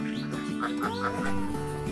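Laying ducks on a duck farm quack in a dense, overlapping chorus, several birds calling close by in quick nasal bursts with no pauses.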